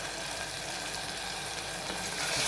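Masala frying with onions in a pan for a Sankranti Bhogi festival dish, a steady close crackling sizzle that holds without break and swells slightly at the end, with no talking.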